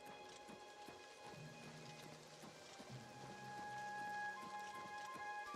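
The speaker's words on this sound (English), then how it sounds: "Quite nice when it rains in this game, I gotta say" Steady rain falling in a video game, a dense hiss of drops on surfaces with faint rumbles and scattered tonal game sounds, swelling slightly louder toward the end, without talk.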